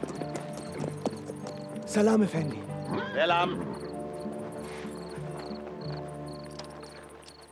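Horse hooves clip-clopping at an outdoor scene with crickets chirping steadily, soft hoof steps under a man's greeting in a drama dialogue.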